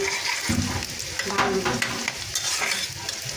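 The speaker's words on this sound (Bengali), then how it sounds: "তেলে ভেজে নিচ্ছি।" Chopped red amaranth greens and onion fry in hot oil with a steady, continuous sizzle, while stirring adds scraping and clinking throughout; no voices.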